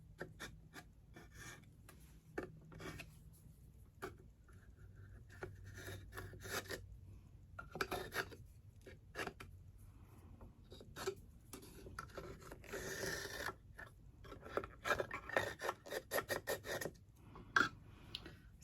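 Pencil tracing around the base of a wooden spindle on an upcycled table, heard as faint, intermittent scratchy rubbing strokes with quiet gaps between them.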